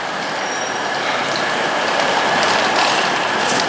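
A Class 800 train, units 001 and 002, passing slowly through Reading station on the Great Western Main Line, giving a steady, broad rumble with faint mechanical clicking and rattle throughout and no talk.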